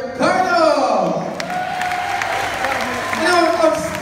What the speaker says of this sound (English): Big applause for all the guys.